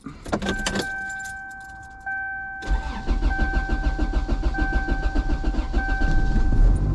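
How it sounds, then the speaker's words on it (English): Keys jingle, then a starter cranks briefly before a car engine catches and settles into a steady, close idle. "Let's get this car warmed up."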